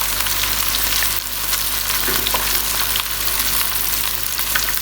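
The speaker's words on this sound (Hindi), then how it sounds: "चिकन हमारा फ्राई हो रहा है।" Chicken fries in a pan with a loud, dense, unbroken sizzle that stays even from start to finish, close up with no voices over it.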